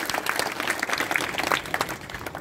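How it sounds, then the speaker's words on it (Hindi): An audience claps loudly at an open-air poetry gathering held for Durga Puja at the municipal square in Mandawa, Shekhawati; dense, rippling applause that holds steady throughout. "एक बार जोरदार तालियां के साथ आगे"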